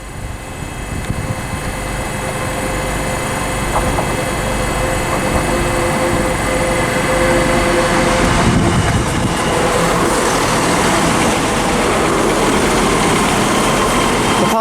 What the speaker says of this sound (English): also arriving in is the 1609 ScotRail service from Cowdenbeath to Edinburgh